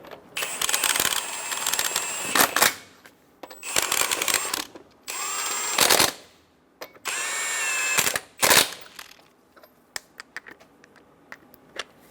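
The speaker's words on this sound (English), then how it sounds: "Snug the lug nuts down." A power tool, likely an impact gun or drill, runs in repeated whirring bursts of about one to two seconds each as lug nuts are snugged on a 2014-2018 Chevrolet Silverado 1500 wheel, with quieter clicks and handling noises between bursts.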